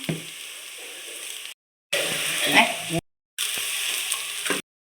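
Onion-tomato masala with chili powder sizzles and fries in a pan for soya chunk curry, heard in three short stretches separated by silence, with faint stirring scrapes and no talking.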